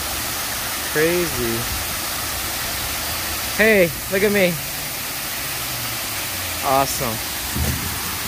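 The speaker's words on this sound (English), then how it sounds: "Whoa, look at that waterfall, guys." A waterfall at a vacation spot pours in a constant broadband rush beneath the whole scene, while people talk and exclaim over it in short bursts.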